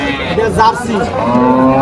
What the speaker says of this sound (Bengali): এই যে একটা গাভী দেখেন